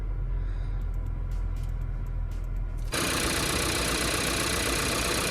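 Cupra Formentor engine warming up at elevated idle revs, a steady close rumble that jumps abruptly louder and harsher partway through, as if the engine is revved or the hood opened, with a slight uneven shake.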